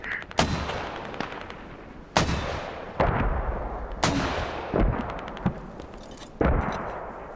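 Mortar rounds slam down one after another in a military shooter game. The loud, sharp impacts land about a second apart, each crack fading into a rumbling tail, and there is no talking.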